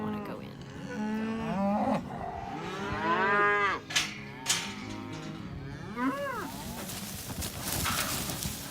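Several cattle from a herd of about seventy moo repeatedly as they are moved to a 2,200-acre summer pasture. The calls are loud and overlapping, with drawn-out bellows throughout and brief knocks in between.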